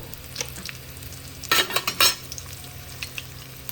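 Onion pieces, with garlic and salt, sizzle as they fry in a pan for gongura chutney, with a steady hiss broken by a few louder scraping stirs near the middle.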